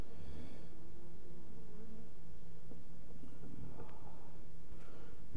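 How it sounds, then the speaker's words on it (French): Dense swarm of honeybees buzzing around a crowded hive with drones present, a steady close insect drone with low hum throughout and no talking. "la masse d'abeilles qu'il y a dans cette ruche-ci"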